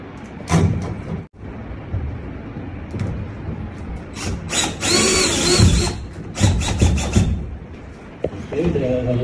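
A fitting for a T8 linear LED pendant lamp is screwed in by hand, giving scraping, clicking and grinding handling noises in uneven bursts, fairly close, with a voice heard in places.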